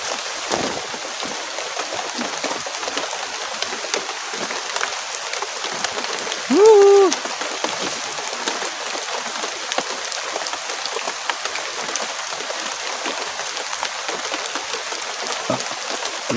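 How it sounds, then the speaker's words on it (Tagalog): Heavy rain pours steadily on a house roof, a dense unbroken hiss filling the whole stretch, with one brief tonal sound partway through. "Malakas na naman ang ulan na pumapatak sa bubong ng bahay"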